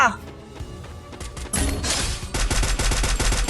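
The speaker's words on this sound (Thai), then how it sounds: "กระโดดยิงไป" Rapid bursts of gunfire in the battle game Free Fire as a player jumps and shoots. Sharp cracks start out sparse, then turn into dense automatic fire in the last two seconds, with a voice talking underneath.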